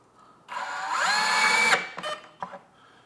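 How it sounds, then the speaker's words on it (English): A power drill drives a screw into a kitchen cabinet in one loud, rising whir of a bit over a second, cutting off sharply as the clutch stops it, followed by a few short clicks and knocks. "Isn't that drill great? It just stops for you."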